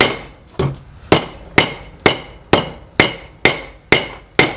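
Hammer forging and tapering hot steel from an old 2 lb sledge hammer head, nine sharp ringing strikes in a steady rhythm about half a second apart, loud and close, each decaying quickly with no talking.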